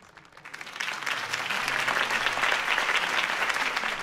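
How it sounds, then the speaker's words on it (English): A crowd in a Batman video game breaks into applause that swells from scattered claps to a dense, sustained ovation. "could have heard that applause"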